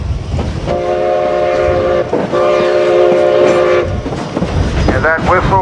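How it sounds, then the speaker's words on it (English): Steam locomotive whistle on the Cumbres and Toltec narrow-gauge railroad, sounding two loud, sustained harmonic blasts near the start and middle as an engineer's acknowledgement, over steady rumbling train running noise and accelerating exhaust. "that whistle is an acknowledgement by the engineer"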